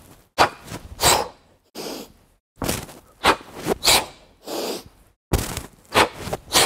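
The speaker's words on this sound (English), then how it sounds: "listen to my breathing." Forceful, rhythmic breathing during a kettlebell jerk: sharp exhales and gasps come in bursts roughly every second or so, close and loud, with short pauses between repetitions and no talking.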